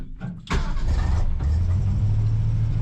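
1978 Ford F250 4x4 engine idling too high, a close, loud, steady low engine drone after a brief clatter at the start, with no talk.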